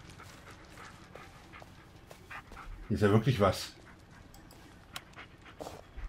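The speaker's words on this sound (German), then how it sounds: "Der Hund ist in meiner Nähe, das ist sehr schön." Dog whimpering and panting in the horror video game Blair Witch, a brief loud burst of whines and breathy panting in the middle over quiet forest ambience, with someone talking during the clip.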